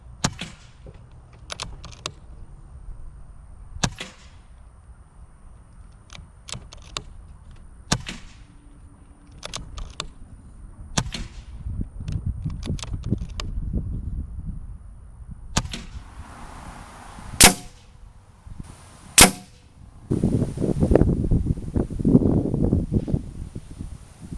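A Daystate .22 caliber PCP air rifle fires at targets outdoors, producing a series of sharp, short snaps and cracks spread across the stretch, with rustling and handling noise between shots and a couple of louder, clearer reports near the end.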